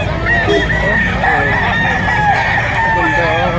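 Rooster crowing among other chickens at a gamefowl sale in Lipa, Batangas, with loud overlapping calls and clucks running throughout, dense and close.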